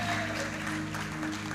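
A church congregation applauds during an evening service, with dense close clapping over a sustained organ or keyboard chord.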